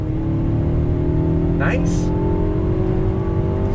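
Engine of a 2020 Mercedes-Benz GLB 250 compact luxury SUV pulling hard on throttle out of a bend, a loud, steady drone throughout with a brief spoken word partway through.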